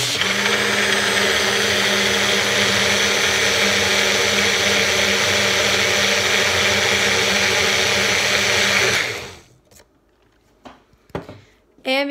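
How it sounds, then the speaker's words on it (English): A blender whirs loudly and steadily for about nine seconds, then shuts off, leaving near silence with a few faint clicks and a brief noise at the end. "And then I put it in the blender"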